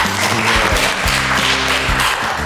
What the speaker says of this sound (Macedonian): голем аплауз за тебе